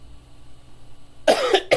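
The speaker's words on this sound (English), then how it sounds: "sorry, I had a cough" After a stretch of quiet, someone coughs twice close by: a longer, rough cough followed by a short, sharp one.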